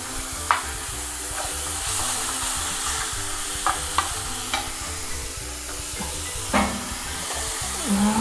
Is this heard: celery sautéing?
yes